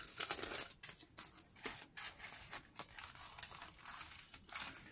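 Paper envelopes and journaling cards for a nature-style journal are handled close by, giving steady crinkling, rustling and brief tearing-like swishes with short pauses and no talk.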